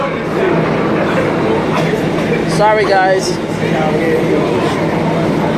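A New York number 4 subway train running, a steady loud rumble of wheels and car noise filling the whole stretch, with a brief screech of squealing metal midway and someone speaking over it.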